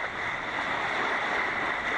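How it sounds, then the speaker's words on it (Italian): Meltemi wind gusts while sailing out from Antiparos in the Aegean: a steady rush of wind and sea wash against the boat, continuous and fairly loud, with no voices. "su una bella mattina con un po' di raffiche di Meltemi"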